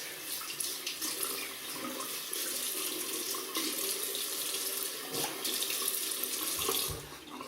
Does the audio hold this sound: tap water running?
yes